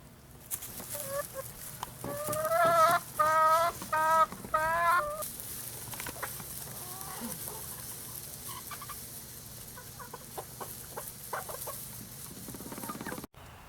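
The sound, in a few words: chickens clucking as they come out of the chicken house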